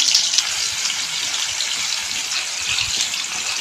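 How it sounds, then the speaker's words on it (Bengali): Potatoes frying in hot oil for a chicken curry, giving a loud, steady, hissing sizzle that carries on unbroken and close up with no talk over it. "তেলটা হয়ে গেছে, আলুটা ভেজে নিচ্ছি।"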